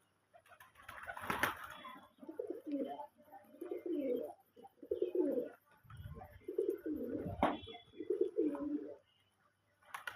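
Domestic pigeons coo in low, throaty bursts while feeding, repeating close by at an irregular rhythm, with a couple of brief wing flaps or sharp knocks between calls and faint voices now and then.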